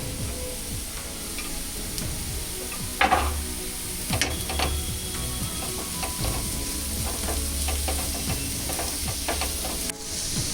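Onion sautéing in a pan with ginger, garlic, green chilli, capsicum and tomato for paneer bhurji, giving a steady close sizzle with scattered stirring scrapes and clinks throughout.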